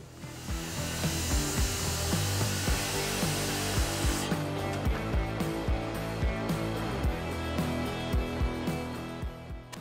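A saw cross-cuts a log freehand in quick, rhythmic back-and-forth strokes. The rasping is loud and close, with a brighter hiss over the first few seconds.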